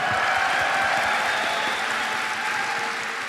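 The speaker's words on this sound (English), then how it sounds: "please, one more round of applause for the amazing sound team here and all the sound team at DE" A live audience at Tennocon 2026 breaks into steady, sustained applause, a dense wash of clapping hands that holds evenly throughout and fades slightly toward the end.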